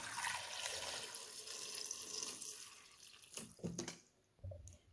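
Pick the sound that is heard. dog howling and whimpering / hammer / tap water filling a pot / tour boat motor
tap water filling a pot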